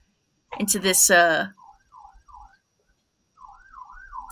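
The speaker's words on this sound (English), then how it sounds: "a car alarm going on outside" A car alarm sounds outdoors, its warbling electronic tone rising and falling in short repeated bursts after a spoken sentence, moderately loud and somewhat distant.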